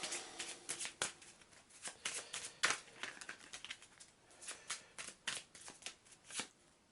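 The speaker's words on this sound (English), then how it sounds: "Shuffle the Mythos deck, being sure to include this card in it." Arkham Horror Mythos cards being shuffled by hand, a close, quiet run of crisp riffling bursts and soft slaps repeating irregularly for several seconds, with no talking.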